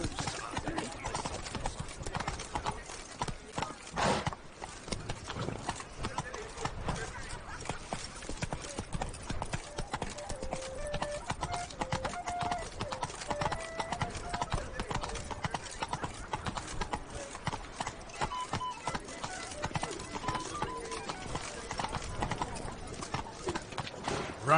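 Roach, a horse in a video game, gallops with steady rapid clip-clopping hooves throughout, with an occasional whinny and a voice speaking now and then over the hoofbeats.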